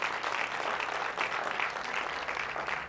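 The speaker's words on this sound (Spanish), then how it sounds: "Den un fuerte aplauso al Rey de Reyes." Church congregation applauding at a Spanish-language worship service, a steady dense wash of clapping that holds evenly throughout without any voices over it.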